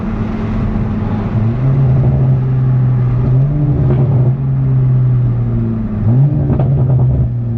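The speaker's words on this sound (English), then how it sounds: "here's the windows down, just cruising with the valves open" Toyota Supra cruising in sport mode with a Boost Logic valved exhaust open and catless downpipe, a loud, deep continuous drone with rising tones as it shifts, windows down.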